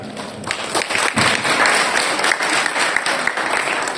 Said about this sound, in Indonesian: Sekali lagi beri tepuk tangan untuk rekan kami yang terkasih